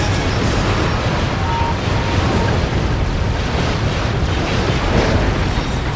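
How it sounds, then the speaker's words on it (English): Dense, loud barrage of explosions and rapid gunfire in the video game Dread Zone, one continuous chaotic roar with bursts layered over each other. "Oh, the explosion, the gunfire, the carnage."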